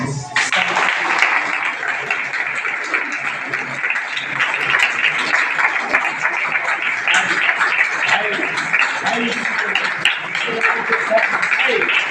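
A church congregation claps together during a Sunday worship service, a sustained, fairly loud wash of many hands with scattered voices beneath it.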